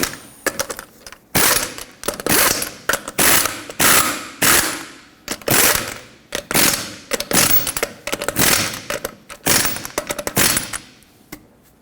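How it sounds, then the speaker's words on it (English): Ratcheting wrench tightening lug nuts on a 1995-2004 Toyota Tacoma front wheel, a loud run of repeated clicking bursts about every second, each a quick rattle of pawl clicks, close up and with no talk. "Bottom them out in a cross pattern, and then also in a cross pattern, tighten them to 83 foot-pounds."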